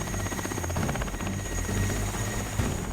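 A helicopter carries a team across the North Pole ice, its rotor and engine a loud, steady, close drone with a constant beating pulse and no voices.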